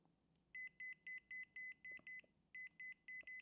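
An electromagnetic radiation tester sounds its alarm in a run of about ten evenly spaced, shrill electronic beeps, clear and alone over a faint quiet background.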